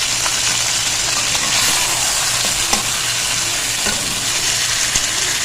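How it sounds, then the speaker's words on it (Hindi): Mutton pieces frying with two tablespoons of ginger garlic paste in a karahi give a steady, loud sizzle with occasional stirring scrapes, no voices. "सिर्फ अदरक लहसुन के साथ इसकी भुनाई करेंगे"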